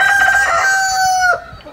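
A rooster crows in a garden, a long clear call with clucking hens around it, close and loud before it fades out near the end.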